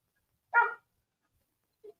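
A dog gives one short, fairly loud bark, then a faint little yip follows about a second later against an otherwise silent background.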